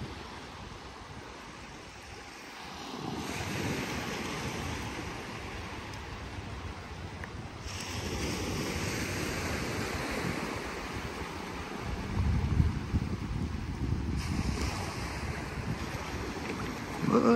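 Steady east-northeast wind rushes across the microphone on the sandbar at Vanderbilt Beach, North Naples, Florida, blending with a soft wash of surf that swells louder after a few seconds.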